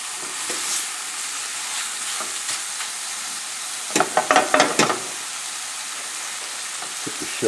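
Shrimp and scallops Newburg sauce simmering and being stirred in a pan, a steady close sizzle with a burst of louder scraping and clattering strokes midway.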